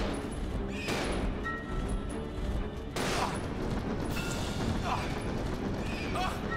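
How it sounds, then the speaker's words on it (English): Gunfire in the Resident Evil 0 HD Remaster on PC, set in Umbrella's laboratory: a few loud, sharp shots spaced a couple of seconds apart ring out over a constant dense game soundtrack. "I suppose I'm gonna have to use the gun."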